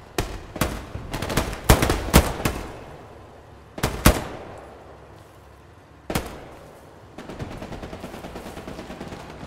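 Gunfire in the World War II shooter game Heroes & Generals, with sharp rapid bursts and single shots in uneven clusters followed by a short rattling volley near the end, loud and close and without talk.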